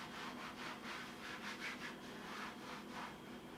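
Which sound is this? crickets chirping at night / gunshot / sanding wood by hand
sanding wood by hand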